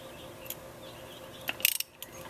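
A ratchet turns a spark plug counterclockwise on a Toyota Tundra, giving a brief burst of close clicks under a steady low hum of the surroundings.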